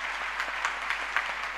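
Seminar audience claps in sustained applause, an even mass of hands heard at moderate loudness with a few sharper claps standing out.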